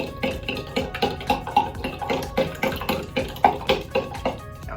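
Baking soda is stirred into water with a spoon, giving a quick, even rhythm of light clinks and swishes, about a dozen strokes, fairly quiet and close, with no one talking.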